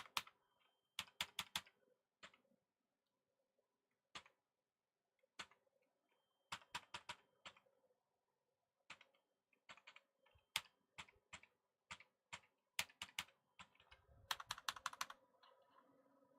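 Fingers tap a computer keyboard in short irregular bursts of clicks, separated by pauses and ending in a quick flurry of keystrokes.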